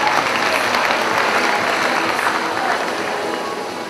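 A school freshman ball crowd at Colegiul National Unirea in Focsani applauds Nicoleta, a loud, sustained, dense roar of clapping that slowly tapers off near the end.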